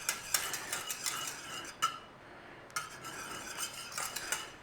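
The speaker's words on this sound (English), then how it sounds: "I might be stirring it the wrong way" A custard mixture thickening in a pot is stirred with a utensil that scrapes and clinks softly against the metal in steady strokes, faint and close, with a brief pause midway.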